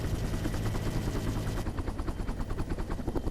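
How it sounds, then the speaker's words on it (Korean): A Marine Corps military helicopter climbs with a loud, close, continuous rotor thumping and engine roar throughout. "점점 더 높은 곳을 향해 오르는 헬기."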